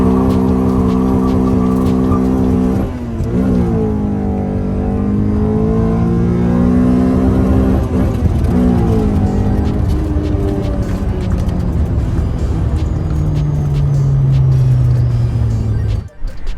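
Honda Torneo Euro R with an H22A engine revving hard as VTEC engages, the loud engine note climbing and dropping through several pulls before settling to a lower tone and cutting off.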